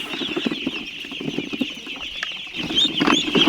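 Pet ducks on a Philippine farm, clucking and calling steadily in a close chorus against a constant high background hum, with no speech.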